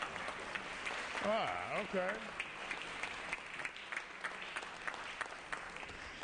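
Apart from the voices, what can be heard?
applause in an assembly chamber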